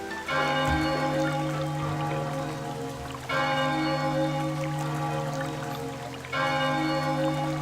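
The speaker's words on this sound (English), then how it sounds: "Sounds like a bell ringing." Bell tolling in the video game Chocobo's Mystery Dungeon Everybuddy, three sustained resonant strikes about three seconds apart, each ringing on with a rich shimmering overtone tail over soft ambient game music.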